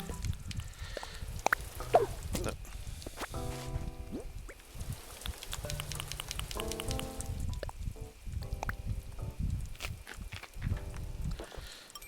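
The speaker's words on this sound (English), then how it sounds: "it sounded loud, but I think the rain is going away." Rain falls in Animal Crossing: New Horizons as a steady patter, mixed with footsteps and short tonal chimes from the game, with no voices over it.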